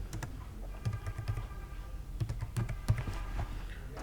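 Keys clatter on a computer keyboard while a new folder is named on a desktop, light irregular taps in short bursts, close and fairly quiet.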